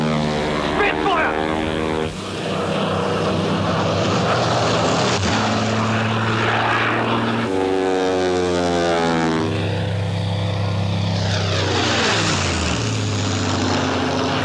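A Spitfire propeller fighter plane roars loudly overhead in wartime air combat, its engine drone shifting in pitch as it passes close, with voices speaking over the noise.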